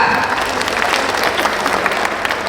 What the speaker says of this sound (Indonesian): Tepuk tangan semuanya, semangat.